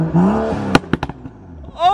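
Aggressive car exhaust cracking in a burst of sharp, gunshot-like pops after a low engine note, loud and close, with a brief voice near the end.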